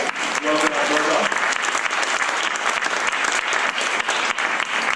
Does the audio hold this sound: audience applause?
yes